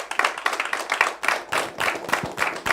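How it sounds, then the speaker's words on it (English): A round of applause on a TV quiz show set: many hands clapping steadily and fairly loudly for a few seconds, with no voices over it. "A round of applause to all of you, please."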